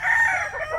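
A fighting cock rooster lets out a short, clear crow, a single bright drawn-out call heard alone and up close.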